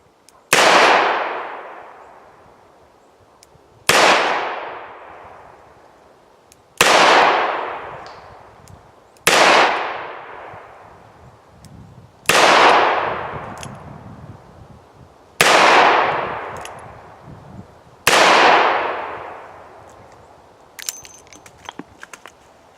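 A Ruger GP100 seven-shot .357 Magnum revolver fired outdoors at a range, seven loud sharp reports spaced about three seconds apart, each with a long decaying echo, followed by faint clicks and handling noise.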